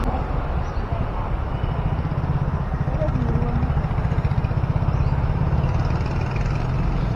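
Crowded traffic at a main road signal, with motorcycles and cars idling and revving nearby in a steady, throbbing engine rumble that runs throughout, while people talk faintly underneath.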